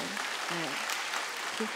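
Congregation at a New Year's Eve church service claps in a brief, steady burst, with a few voices murmuring faintly under the applause.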